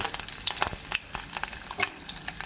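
Okra pieces frying with turmeric in a pan for a crispy Andhra-style fry, giving a steady close crackling sizzle with scattered sharp pops and spits throughout, no voices.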